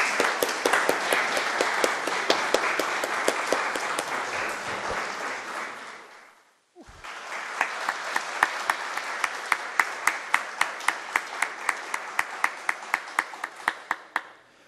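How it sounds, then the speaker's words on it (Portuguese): A standing ovation for New York School at an honour ceremony in Cascavel: a crowd claps loud and steady, briefly dies away near the middle, then swells again with sharp individual claps standing out. "Cascavel, vamos aplaudir de pé aqui"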